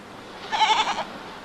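A goat gives a single short, wavering bleat, fairly close and lasting about half a second against quiet background noise.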